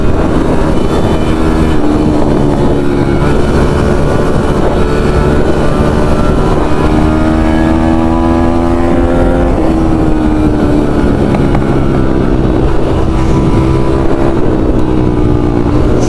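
A small enduro dirt bike engine with a new motor idles steadily and loudly, its pitch wavering and rising slightly as it warms up, with no voices.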